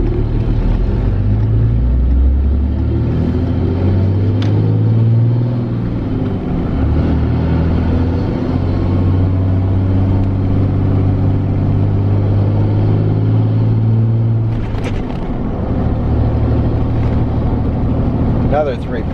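A 2017 Cummins diesel truck fitted with a dual disk clutch drives along, its engine rumbling loud and steady and rising and falling through gear changes. Speech is detected but no words are transcribed.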